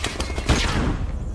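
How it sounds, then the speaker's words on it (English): A flashbang grenade goes off in the video game Call of Duty Modern Warfare, a single loud, sharp burst that decays into a short ringing wash. "Flashbang out"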